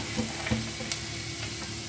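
Water spinach greens go into a pan of frying onions, giving a dense, close sizzle with stirring scrapes throughout the short moment.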